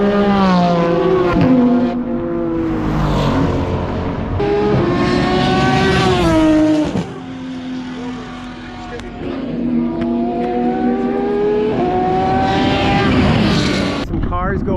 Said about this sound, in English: Some cars go by.